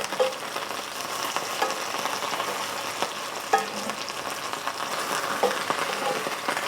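Chicken pan-frying in hot oil for crispy Chinese-style fried chicken, a steady close sizzle with scattered crackles and occasional scrapes and clacks as pieces are moved and flipped in the pan.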